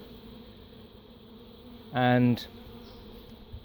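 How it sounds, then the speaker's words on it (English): Bees buzz around a birdhouse hive box being taken apart, one loud close pass flying by the microphone for about half a second over a faint background hum, with a brief spoken word nearby. "A hell of a lot of bees have nipped around the back of the box."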